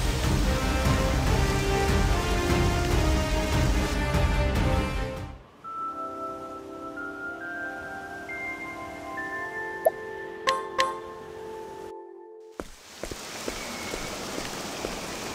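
Steady rain hisses in Octopath Traveler II on PS5 for about five seconds, then cuts off. Soft sustained musical tones and a few bright chime-like hits follow before the rain noise returns.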